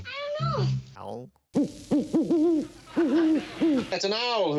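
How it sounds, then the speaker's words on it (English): Owl hooting in a scene from the TV show The Brady Bunch: a series of close, wavering, throaty hoots in quick bursts, preceded by a brief voice and a silent gap. "That's an owl hooting."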